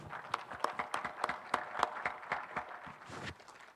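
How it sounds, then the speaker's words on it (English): Audience at a boxing press conference applauds, with sparse, distinct claps rising and thinning over a few seconds at moderate distance, with little talk. "give a big round of applause to all our boxers"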